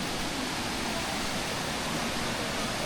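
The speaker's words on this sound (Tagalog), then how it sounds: "Daranac Falls." Daranak Falls in Tanay, Rizal pours in a steady, dense roar of falling water, broad and continuous, heard close and alone with no voices.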